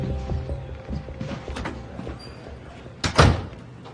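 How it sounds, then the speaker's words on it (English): An office door shuts with a sharp thud near the end, preceded by faint shuffling and movement in a quiet room. "Shut the door."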